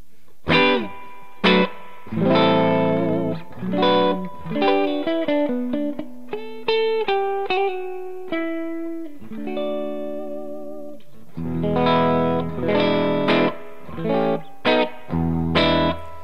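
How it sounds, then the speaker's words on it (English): Clean electric guitar chords and single notes ring out with a lush, springy reverb tail from an all-valve spring reverb in a Big White Monkey Chimp Head Mk 3 amp, strummed phrases alternating with sustained, decaying tones. "It's a beautiful clean reverb, spring sounding, and as I said, it's all valve run."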